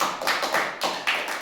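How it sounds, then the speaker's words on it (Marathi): A group of children clapping together in a classroom quiz, a dense run of hand claps swelling in several bursts, close and loud with no talking. "टाळ्या वाजवा सगळ्यांसाठी."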